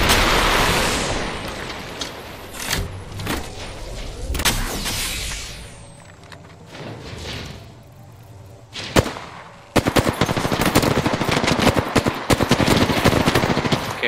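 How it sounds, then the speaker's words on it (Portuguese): Gunfire in the video game Apex Legends: loud bursts of rapid automatic fire and sharp single shots, broken by brief lulls, ending in a dense sustained volley. No one speaks. "Muito tiro nele."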